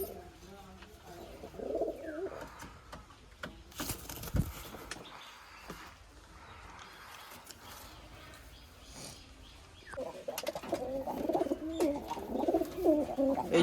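Pigeons coo in soft bursts near the start and again toward the end, with some shuffling and handling noise between and a voice speaking at times.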